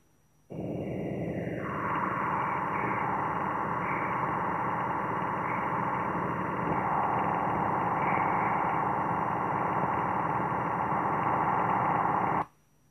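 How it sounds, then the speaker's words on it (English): A sonified radio signal from the Juno spacecraft entering Jupiter's gravitational field: a continuous rough, growling drone with a tone that dips and wavers, starting and ending abruptly. "Here is Juno entering the gravitational field of Jupiter."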